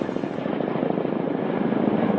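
A Kamov Black Shark attack helicopter drones steadily with a thick, pulsing rotor beat, loud and continuous throughout.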